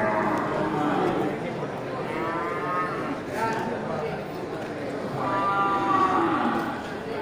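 Simmental and Limousin cattle at a livestock market, lowing with several drawn-out moos over a steady crowd murmur, with people talking nearby.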